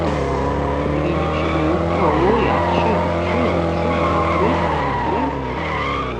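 Tires skid and squeal continuously as a car drifts in the Extreme Car Driving video game, loud and sustained over a steady engine drone with shifting pitch.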